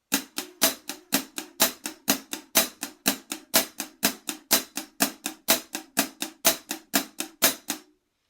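A closed hi-hat plays the steady eighth-note pattern of a drum beat, with louder accented strokes on the second and fourth beats, a crisp close series of even ticks heard alone.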